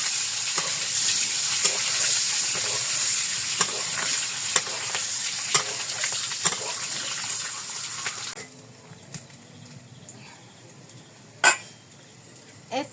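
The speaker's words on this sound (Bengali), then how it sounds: "এই যে ডিমগুলো এখন ভেজে নিচ্ছি" Eggs fry in hot oil in a village kitchen with a bright continuous sizzle and occasional utensil clinks, until the hiss drops off abruptly near the end, leaving a few isolated knocks.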